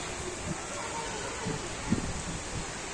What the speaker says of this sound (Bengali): দেখতেই পাচ্ছেন বৃষ্টি পড়তেছে